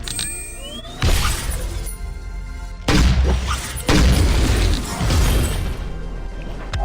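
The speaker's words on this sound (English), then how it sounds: "But boom! That Ion Cannon damage" An Ion Cannon blast in the Vainglory video game: several loud, crashing, shattering booms hit one after another, about a second apart, each ringing out briefly over a steady game background.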